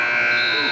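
End-of-quarter buzzer at a high school boys basketball game in a gym, a loud, steady electronic tone held briefly.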